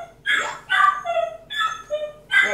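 A little dog yips and barks in several short, high-pitched bursts with whimpering tones between them, coming from the background in a quiet indoor room.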